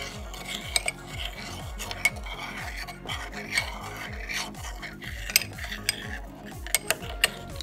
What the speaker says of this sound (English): Then I'll get a spoon to stir it.